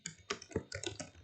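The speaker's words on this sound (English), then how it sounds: "my typing is not that good some days" Computer keyboard typing, a quiet run of a few irregular key clicks in short bursts close to the microphone, with no talking.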